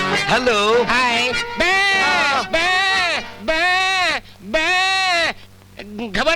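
A man imitates a goat with his voice, letting out four or five loud, wavering bleats in quick succession, close and clear, in a Hindi comedy scene.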